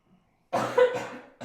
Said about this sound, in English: I don't know why I'm starting to cough a lot.